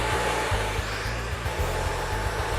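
Solano ionic hair dryer, its hottest model, blow-drying a client's hair during a smooth straight blowout, a loud steady roar with a throbbing low hum that pulses as it is moved.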